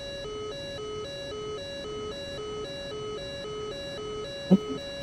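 Master caution warning in the DCS flight simulator game: a faint, repeating electronic two-tone beep pattern cycling steadily in the cockpit, with a brief bump near the end.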